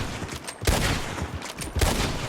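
Rapid gunfire from the video game Red Dead Redemption 2, a dense burst of overlapping shots that rises and falls over about two seconds.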